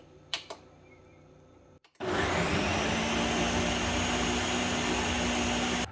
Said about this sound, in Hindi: इस सब चीज़ों को अब ब्लेंड करेंगे।